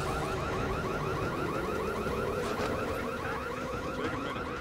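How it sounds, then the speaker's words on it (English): An alarm set off by opening a locked door in Back 4 Blood blares loud and continuous, a rapid repeating electronic wail running through the whole stretch with no talk. "Careful, locked door's gonna alarm that."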